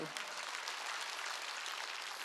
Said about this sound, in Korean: 박수 쳐야 돼요